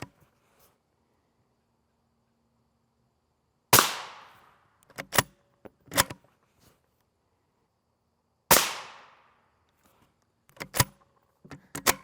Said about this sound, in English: Then our A1 shots, I'm going to place above those last 2 shots